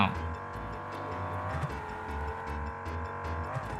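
Car driving in the mobile roleplay game City of Outlaws, a steady engine drone with shifting pitch running underneath quiet talk.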